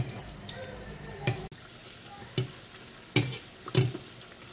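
Moroccan mkhidat pastries frying in hot oil, a steady close sizzle broken by a few sharp crackles and splashes, with a voice faintly in the background.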